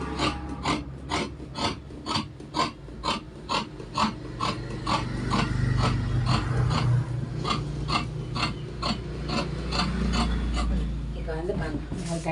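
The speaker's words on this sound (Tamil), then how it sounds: "இப்போ இதில் வந்து 6 சுடிதாருக்கு வெட்டியும் பாருங்கள்." Scissors snipping cloth for six churidar pants, a steady run of crisp, close cutting clicks in regular rhythm, with a speaking voice running underneath.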